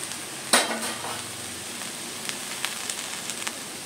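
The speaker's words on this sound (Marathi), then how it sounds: "शेगल्याची भाजी चांगली परतून घेऊया" Fenugreek leaf bhaji sautéing in a pan, a steady soft sizzle with one sharp utensil clink near the start and a few light scrapes afterward.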